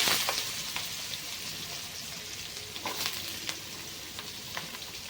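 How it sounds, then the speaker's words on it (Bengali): Carrots frying in refined oil with cinnamon, cardamom, cloves and bay leaf for fried rice, a steady close sizzle with occasional stirring clicks and scrapes throughout. "প্রথমে আমি গাজরটাকে ভেজে নেব"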